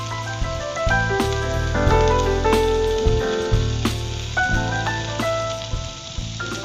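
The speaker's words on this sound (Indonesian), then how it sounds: "api kompornya bisa kita kecilkan dan kita panggang sampai matang" Chicken satay grills over a lowered stove flame, turned now and then, giving a continuous sizzle with scattered crackles and pops and a few sharp clinks of handling.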